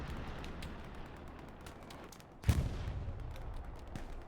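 A precision strike artillery blast in a World War II tank video game hits once with a sharp heavy boom partway through, following a stretch of low rumbling battle noise.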